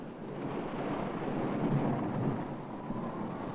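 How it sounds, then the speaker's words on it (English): A fierce storm at sea, with deep rumbling thunder and wind-driven noise swelling and fading in a continuous low roar, moderately loud and with no voices. "But there was no denying fierce storms."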